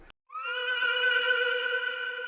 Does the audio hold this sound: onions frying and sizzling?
no